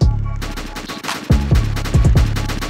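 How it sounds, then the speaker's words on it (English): Gunfire in the video game Military Simulator, loud and close, with repeated heavy shots and booming impacts over a dense, continuous battle din. "Obviously, there has to be a JC shooting randomly"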